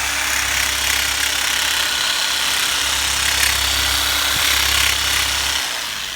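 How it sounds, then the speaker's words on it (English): A steady, loud mechanical buzzing hum of a Makita percussion massager running continuously on a patient's muscles during a chiropractic session, with a brief pause near the end before it cuts off. "We're going to use a little Makita drill, Makita vibro unit to loosen up some of these muscles."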